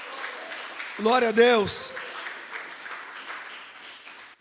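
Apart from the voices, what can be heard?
congregation applauding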